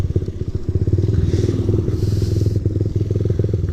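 Suzuki Satria FU motorcycle engine idling at a red light, a steady close low rumble with fast regular pulsing throughout, slight rattle and faint passing traffic behind.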